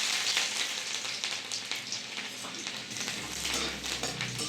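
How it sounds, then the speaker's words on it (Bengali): Chopped garlic fries in a little oil with nigella seeds, a bright continuous sizzle and crackle close up, with occasional soft stirs. "রসুনটা ভাজা ভাজা হবে"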